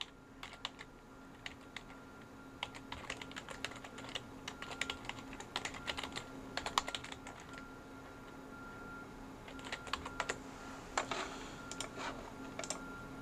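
Rapid, uneven keystrokes on a computer keyboard as a username and password are entered for a VPN login, close and fairly quiet over a steady low hum, with short pauses between bursts.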